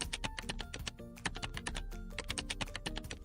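Rapid, close keystrokes on a computer keyboard as an email address is typed, a steady run of crisp clicks with no voice over them.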